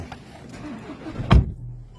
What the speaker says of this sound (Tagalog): Ito na kami, pasakay namin sa sasakyan.